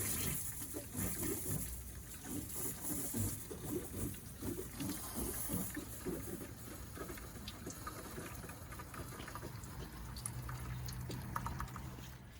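Water flushes through the heater core of a 2002 Ford F-150 V8, carrying rust out in a continuous, faint, close splashing and trickling with scattered drips.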